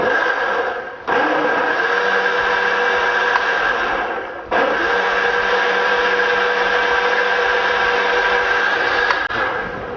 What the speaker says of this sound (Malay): kita blendkan dia